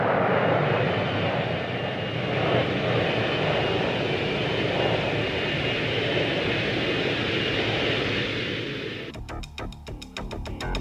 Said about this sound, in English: The F-4 Phantom II was a massive plane for its time.